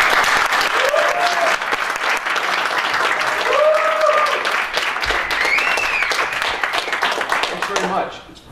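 An audience at a talk on persuasive storytelling applauds to welcome a speaker, with sustained clapping that fills the room and tapers off at the end, while someone's voice rises over it.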